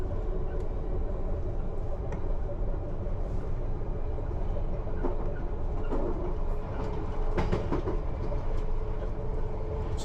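A London Underground Piccadilly Line train running on rails toward the sidings, a steady loud rumble and rattle throughout with occasional clicks of wheels over rail joints.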